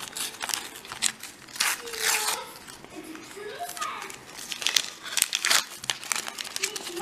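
A Panini World Cup 2018 sticker packet is torn open and crinkled by hand, giving bursts of close, papery crackling and rustling over several seconds, while a person speaks in between.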